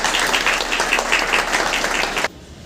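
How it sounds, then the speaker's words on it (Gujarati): An audience at a children's award distribution ceremony applauds with dense, even clapping for about two seconds, then cuts off abruptly. "ખૂબ ખૂબ તાળીઓથી"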